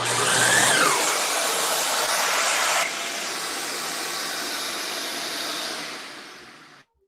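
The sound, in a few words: cyclone dust collector switched on with the miter saw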